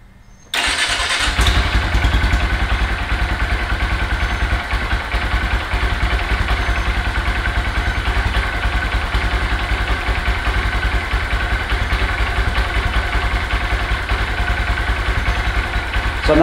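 A 2022 Honda Grom motorcycle with its stock exhaust starts up close by after a brief quiet moment, then settles into a steady, even idle that runs loud and unbroken to the end.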